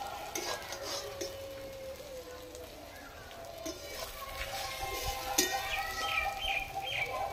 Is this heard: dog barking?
no